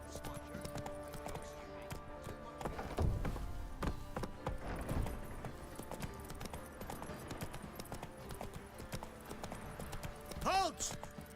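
Geralt's horse Roach clip-clops in The Witcher 3, hooves thudding in an uneven rhythm under game music and character speech, with a brief whinny near the end.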